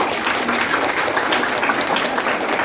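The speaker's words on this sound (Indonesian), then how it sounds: "Tepuk tangan buat kita." A crowd at a business seminar claps together in a thick, continuous wash of applause, steady and even in loudness from start to finish, with no voices standing out.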